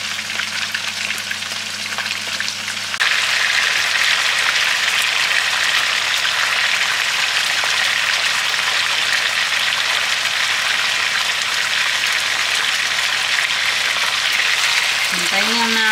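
Food browning in a hot pan on a home stove, heard as a steady, fairly loud broadband sizzle and crackle that swells noticeably after the first few seconds and then holds even throughout, with no talking.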